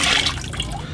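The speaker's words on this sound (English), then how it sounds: "now it's coming out of the spout" Ceramic glaze pours out of a teapot spout in a short, quiet liquid trickle lasting about a second.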